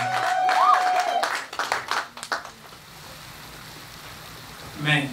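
Wedding guests at a Congolese church wedding clap together for the Lord, a short burst of applause that fades out as a pastor speaks.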